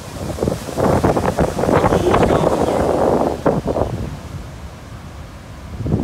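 Gusty seaside wind on Sardinia's west coast buffets the microphone in rough bursts, easing toward the end, with a faint wash of surf beneath.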